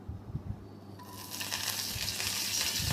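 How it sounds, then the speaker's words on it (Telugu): Dried red chillies fry in hot oil for a tempering, a close, steady sizzle swelling up partway through after a few soft knocks, continuing alone without talk. "మనం ఈ తాలింపుని వేయించుకోవాలండి ఎండుమిర్చి బాగా అయితే వేగాలి"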